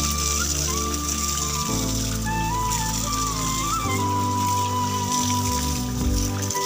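Water gushing steadily out of a large irrigation pump motor housed in a small chamber among open fields, a continuous loud rushing flow that goes on without pause.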